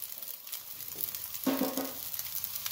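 Soy sauce hits hot frying vegetable fried rice in a pan, setting off a burst of louder sizzling and crackling over a steady background fry, with stirring sounds.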